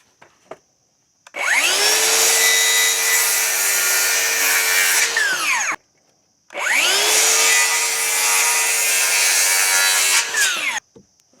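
Power saw cutting 2x4 wood boards for a privacy fence gate: two separate cuts, each a loud whining spin-up, several seconds of steady cutting close by, then wind-down, with brief quiet between.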